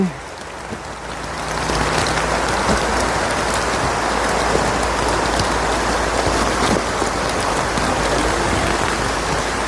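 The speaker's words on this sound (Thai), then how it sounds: "แรงกว่าเดิมครับฝนแรงกว่าเดิมครับตอนนี้" Heavy rain pours down at a pilgrimage site in Khao Kho, Phetchabun, a dense, loud, steady hiss of water on surfaces that swells after the first seconds and continues unbroken.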